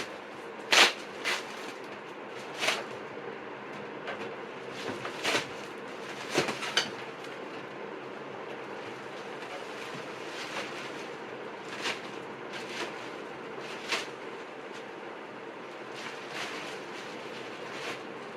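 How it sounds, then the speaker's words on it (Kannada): Air escapes from a cut plastic package around a compressed latex mattress as a soft, steady hiss, dotted with scattered plastic crackles and pops, close and fairly quiet, with no speech. "ಆಲ್ರೆಡಿ ಗಾಳಿ ಹೋಗೋ ಸೌಂಡ್ ಕೇಳಿಸ್ತಾ ಇದೆ."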